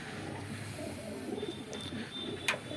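Soft, low cooing from Giribaz pigeons at a home loft rolls on steadily and close by, with one brief sharp tick near the end and no voices.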